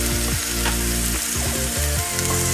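Steady sizzling of onions frying in a hot pan with chili flakes, with occasional scraping and stirring sounds, loud and close, no talking.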